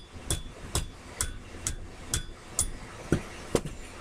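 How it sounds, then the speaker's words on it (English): Planishing a metal tent pole into an arrow with a hammer: eight evenly spaced, light, sharp metallic taps at roughly half-second intervals, close and alone with no voices. "the technique I'm using right now to hammer with is what is known as planishing"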